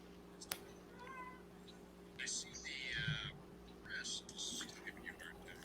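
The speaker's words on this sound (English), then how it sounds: "I have a cat watching the film with me." A cat meows a few times nearby, soft high cries over a steady background hum from a film playing.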